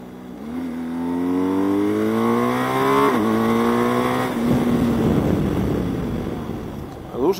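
A car accelerates hard past a truck during a speed test, engine pitch climbing steadily with a brief shift around the middle, then fading into loud road and wind roar close inside the cabin.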